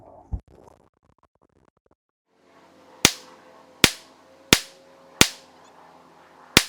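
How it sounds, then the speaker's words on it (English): A .45 Colt revolver fires five sharp, evenly spaced shots offhand at a target on an outdoor range, each crack loud and close with a quick decaying tail, preceded by a faint knock and quiet handling. "Let's try and group on that bottom target."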